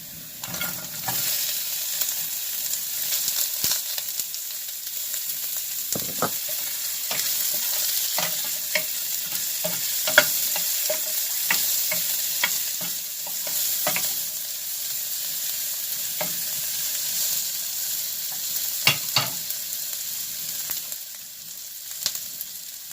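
Onion sizzles and fries in a pan for a creamy beef and mushroom dish, a continuous steady hiss with intermittent scraping and clinking as a utensil stirs, close and alone without talk.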